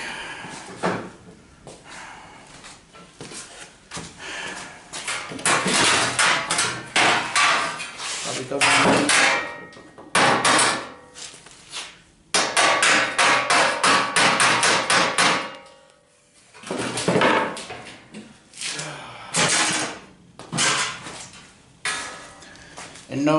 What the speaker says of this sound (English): let's get the hammer and dolly out